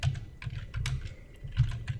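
Quiet rapid typing on a computer keyboard, a close run of soft keystrokes with short pauses between them and no voices.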